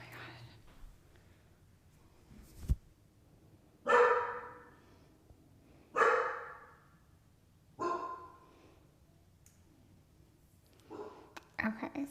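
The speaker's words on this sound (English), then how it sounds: "No barking, Lonnie." A pet dog named Lonnie barks in a handful of loud, separated bursts near a garage, with a quiet whispered voice and small noises in between.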